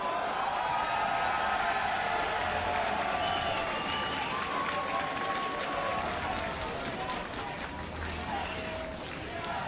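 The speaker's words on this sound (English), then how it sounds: "as you can hear the crowd chanting" At a League of Legends North American semifinal between Counter Logic Gaming and Team Impulse, a large arena crowd keeps up a steady roar of chanting and applause throughout, with a commentator talking over it.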